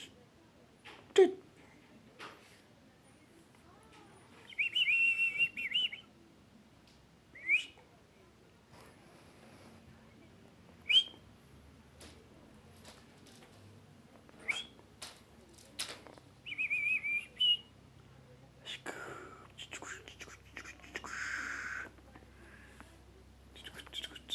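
A pet budgerigar gives short bright chirps and whistles, scattered bursts spaced apart, with quiet whispered talk and soft room noises between them.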